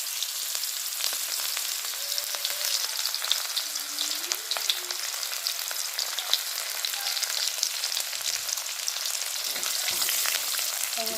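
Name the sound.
frying in a pan for Assamese fish curry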